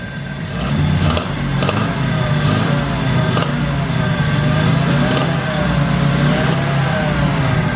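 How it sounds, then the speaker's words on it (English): A Mazda RX-7 Series 1 barn find, started for the first time in ten years, revs loudly up close: a sustained, wavering engine drone that rises and falls through several throttle blips for the whole stretch. "Give it a rev."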